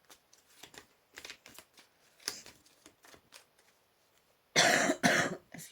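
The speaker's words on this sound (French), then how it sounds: "je suis allée tousser un bon coup" A woman coughs, a few sharp bursts in a quiet room amid light shuffling and handling noises, with two loud close coughs near the end.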